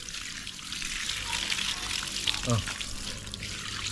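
Water gushes steadily from an opened household water line, a broad continuous rush with a short exclamation from a man over it.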